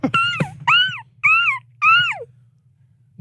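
A person imitates a hurt dog whimpering: four close, loud, high whining yelps, each rising then sliding down, spaced about half a second apart with a low hum underneath.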